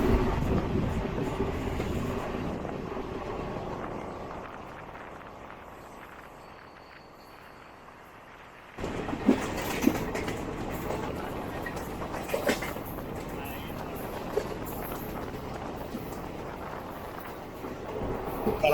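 Express train 12081 from Kannur to Thiruvananthapuram runs through Aluva station without stopping, a steady rolling rumble that fades lower midway, then returns louder with sharp clacks and rattles over the rails.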